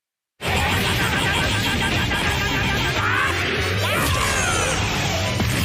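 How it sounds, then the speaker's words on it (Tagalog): Anime battle effects: a powerful Kamehameha-style energy wave and a barrage of heavy punches as Zeno Vegeto attacks. Dense, loud crashes, whooshes and impacts roar continuously with no pause. "Inatake ito ni Zeno Vegeto ng isang malakas na Kamehame wave at tuloy-tuloy na malalakas na pisikal na atake"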